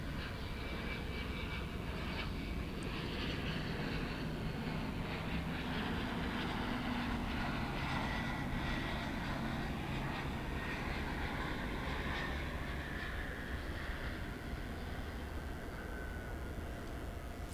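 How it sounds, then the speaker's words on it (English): An airliner on the Wichita Falls flight arriving at DFW International Airport in fog, a faint distant engine roar rising and fading steadily across the whole stretch, heard but unseen. "here comes the flight from Wichita Falls"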